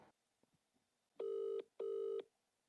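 A phone line rings back during an outgoing call, giving two evenly spaced electronic ring bursts of about half a second each, clear and fairly close after a few faint clicks.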